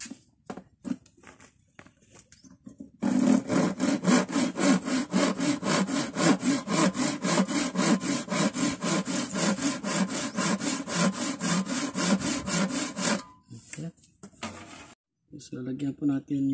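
A hand saw cuts through wood in fast, regular back-and-forth strokes for about ten seconds, close and loud, with a few light knocks before and after.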